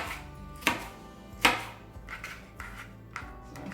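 A knife slices peppers for fajitas on a cutting board, giving two sharp, clear cuts followed by softer, scattered chops, close and fairly quiet, with no voices.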